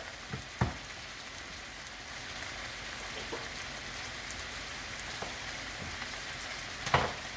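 Carrots frying in butter alongside cabbage for a Jamaican-style dish: a steady soft sizzle throughout, with a few faint clinks and taps, close and fairly quiet.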